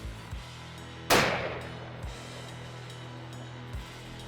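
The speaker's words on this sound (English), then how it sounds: "So I guess we're gonna shoot at 100 yards to be sure the gun's on." A single loud rifle shot on a 100-yard range, sharp and close with a decaying tail, followed by a few faint thumps against a low steady background hum.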